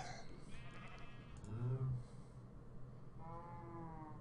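Video game sheep giving several short, quavering bleats spaced across a few seconds, fairly close and clear over a faint low hum.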